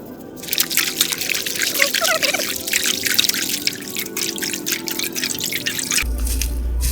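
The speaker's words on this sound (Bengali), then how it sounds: "সুন্দর করে পানি দিয়ে ধুয়ে নেব" Water dripping and trickling while chopped greens are washed, a close, busy patter of drops and splashes that fades toward the end.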